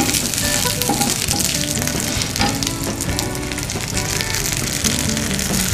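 Whole shallots fry in hot oil with a dense, steady sizzle that stays loud and close from start to finish, with no talk over it.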